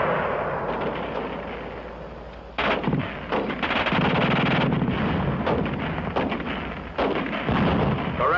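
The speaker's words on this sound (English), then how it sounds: "The German gun shoots fast." A WWII German machine gun fires loud, rapid, sustained bursts with sharp reports and booming echo. No voices are heard.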